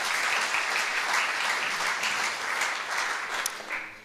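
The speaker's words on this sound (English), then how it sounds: "If you feel like giving that a clap" Congregation clapping at a church gathering, a continuous, full round of applause from many people that fades slightly near the end, with no voices over it.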